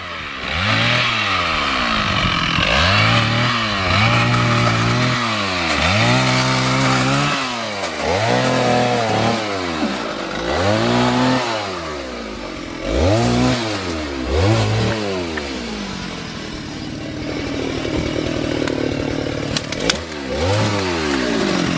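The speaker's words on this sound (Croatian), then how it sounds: "ovdje Rajčić glavni sa motorkom" A chainsaw runs up close while clearing a football pitch, revving up and down repeatedly in bursts, then settles into a lower idle near the end.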